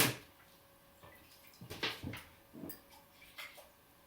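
Water is rinsed and dumped from a seamoss soaking vessel in a kitchen, heard as a few quiet splashy bursts and pours, close and fairly soft, with no talk.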